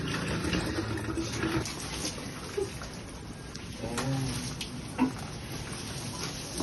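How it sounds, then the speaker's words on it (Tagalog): Water poured onto a large tree in a provincial garden, a soft steady splashing and trickling stream with a few louder gurgles and splashes, fairly quiet and close. "Siyempre, maglagyan na ulit tayo ng tubig."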